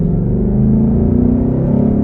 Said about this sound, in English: you still get a great sound from the engine, especially with the induction note